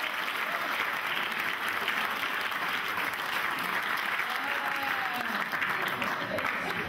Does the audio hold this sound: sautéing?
no